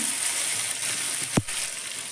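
Onion stalks frying in oil in a pan: a continuous close sizzling hiss with faint crackles, broken once by a brief thud as a utensil knocks the pan, no voices.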